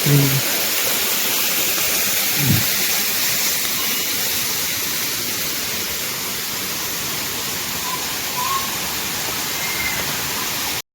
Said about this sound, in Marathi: तिथे आहे वॉटरफॉल